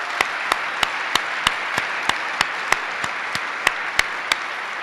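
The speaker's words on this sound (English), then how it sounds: "join with me for a moment to applaud the man who got it all started, Mayor Dinkins" An audience at a leadership and public policy forum applauds a former mayor: steady, dense clapping throughout, with sharp individual claps standing out at a regular beat close by.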